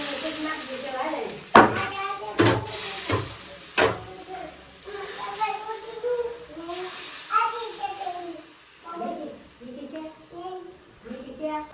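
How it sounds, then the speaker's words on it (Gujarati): Gram flour pudla pancakes frying in a pan in a village home kitchen, a steady close sizzle with a few stirring scrapes, under a voice and nearby talk. "તો જો આપણે પુડલા મસ્ત મજાના બનાવી રહ્યા છીએ"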